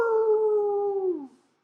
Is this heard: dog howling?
yes